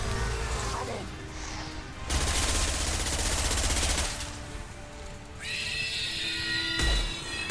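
Automatic weapon fire from the video game Mass Effect 2 comes in long, dense bursts separated by short lulls, loud and close over game effects.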